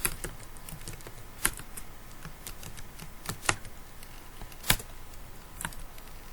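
Keys clatter on a computer keyboard while a balance sheet is entered into an Excel spreadsheet, a steady run of light taps with a few louder keystrokes standing out, close and alone without any talk.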